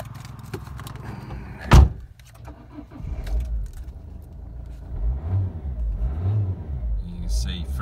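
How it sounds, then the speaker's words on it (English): A Citroen C2 1.4 HDi Furio diesel engine cranks and catches with a sharp burst, then settles into a low rumbling idle with light revving, heard close and alone. "This car starts on the button."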